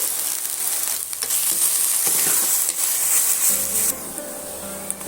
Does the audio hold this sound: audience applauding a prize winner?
no